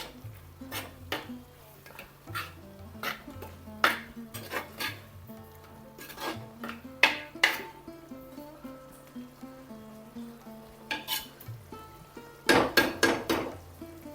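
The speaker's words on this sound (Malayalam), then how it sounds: "അത് ഇട്ട് കൊടുത്തിട്ടൊന്ന് ഇളക്കാം" A spoon stirs a pinch of fenugreek powder into prawn masala in a pan, clinking and scraping against the metal in scattered bursts over a low background hum.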